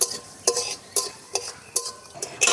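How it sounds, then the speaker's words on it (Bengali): Bay leaf, two dried red chillies and half a spoon of nigella seeds frying in hot oil in a pan, with a steady sizzle broken by a series of sharp, regular clinks and scrapes of a spoon stirring, close and fairly quiet. "ভালো করে ফোড়নটা ভেজে নেব।"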